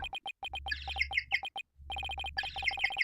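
A penguin-sound phone ringtone of rapid, tinny chirping tones in quick repeated bursts, pausing briefly before starting again, close and clear.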